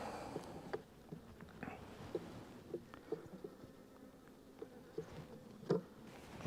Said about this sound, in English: the bees seem to be behaving themselves a bit today